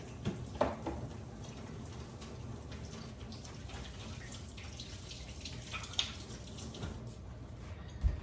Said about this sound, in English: Just give my hands a quick wash here